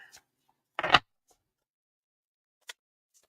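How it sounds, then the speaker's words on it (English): Large oracle cards shuffled by hand with an awkward, unusual technique: a short, close papery riffle burst, followed a couple of seconds later by a faint lone snap in otherwise quiet surroundings. "I have to like shuffle them in a weird way because they're so big"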